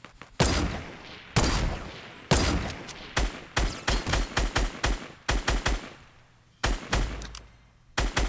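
Gunfire in Fortnite during jetpack gameplay: loud, close shots in irregular bursts, several long ringing blasts followed by quick clusters of sharp reports, each trailing off before the next volley.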